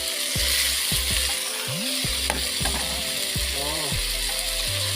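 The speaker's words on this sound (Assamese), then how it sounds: "এতিয়া মই আধা ভাজি থোৱা মাছখিনি ইয়াত দি দিম।" Loud continuous sizzling of frying in a pan, with repeated scraping and stirring sounds as food is moved around.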